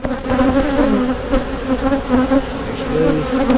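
Honeybees buzz densely and up close as they are shaken off hive frames while a beehive is split, a steady loud drone with wavering pitch and no talk.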